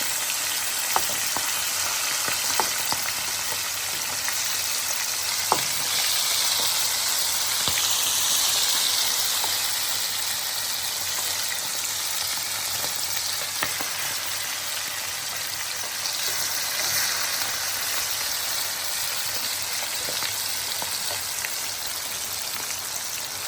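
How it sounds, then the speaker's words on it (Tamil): Sardines (keerai meen) fry steadily in hot oil in a pan, a continuous close sizzle with scattered crackles and pops and no voices. "இப்போ நான் அடுத்த பக்கம் திருப்பி இந்த மீனை பொரிய விட்டுருக்கேன்"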